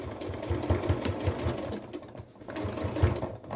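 A sewing machine back-stitches nylon webbing onto a bucket caddy, its rapid needle running in a steady mechanical chatter with brief pauses and restarts, close and alone.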